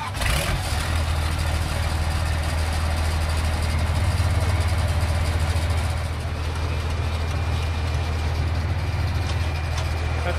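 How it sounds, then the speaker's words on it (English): A Jaguar car's engine idles in neutral, a steady loud low rumble with even mechanical drone throughout and no change in pitch, close to the listener. "Start your vehicle, place it in neutral, please."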